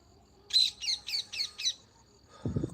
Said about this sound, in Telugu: కోయిల శబ్దాలు బార్డ్స్